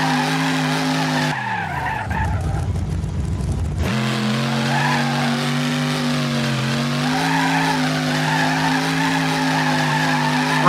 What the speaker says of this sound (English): There we go, 70 donuts.